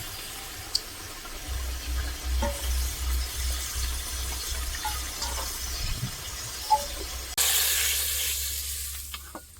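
Mustard prawns cook in a pan with a low sizzle and occasional stirring clinks, close by, ending with a sudden louder hiss.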